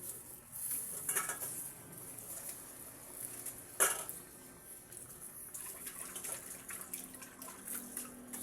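Water spills over the brim of a container outdoors in a home garden, a soft continuous trickle and splash with a few sharper clinks, fairly close and quiet.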